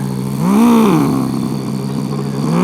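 A voice imitates a vacuum cleaner revving its turbo function, a loud rising-and-falling whirring drone that swells, dips and trails off, alone before a live stand-up comedy audience.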